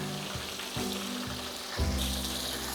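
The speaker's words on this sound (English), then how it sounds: "let's go ahead on and get to frying these crab cakes" Oil sizzles and crackles steadily as crab cakes fry, with a low hum and a few soft thuds as more pieces are added to the pan.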